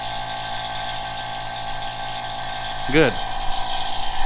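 A vacuum pump evacuating the air-conditioning system of a Ferrari F430 runs with a steady, droning mechanical hum throughout, while a voice briefly speaks partway through.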